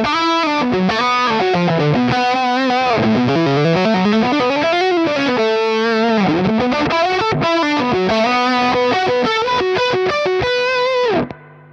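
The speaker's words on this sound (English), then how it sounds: "You can also hear there's like a fuzzy edge to these kind of gain tones" Electric guitar through a Mesa Boogie Road King amp on a distorted gain setting with the treble turned down, a loud, continuous riff of sustained chords with a fuzzy edge that stops abruptly at the end.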